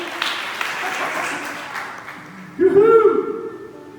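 Applause from a church congregation swells briefly and fades, then a loud voice cuts in near the end.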